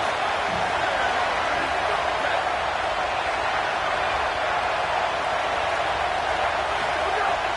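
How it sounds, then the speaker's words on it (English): Crowd noise fills a college football stadium in College Football 27, a dense, steady roar of cheering with no breaks, broad and continuous throughout. "This crowd bringing the energy and noise early."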